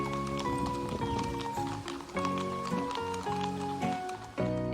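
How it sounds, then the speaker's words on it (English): Hooves of a horse pulling a small four-wheeled wagon clip-clop in a steady trotting rhythm, close and clear. A tuneful musical backing plays underneath throughout. "W for wagon. A wagon is a small, four-wheeled vehicle that can be pulled."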